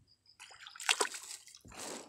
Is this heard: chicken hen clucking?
no